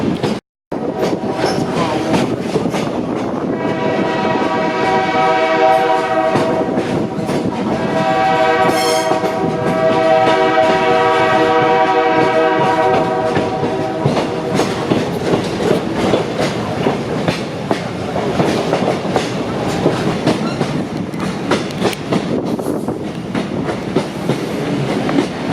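A diesel train on the Oil Creek and Titusville Railroad rumbles loudly and steadily throughout, with a long sustained horn blast sounding near the start and wheels clacking over rails under it.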